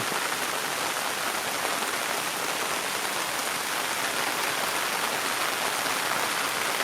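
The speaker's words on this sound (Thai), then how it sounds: "ฝนตก" Steady rain pours down at a waterfall, a dense even hiss of drops on surfaces that holds constant throughout with no voices.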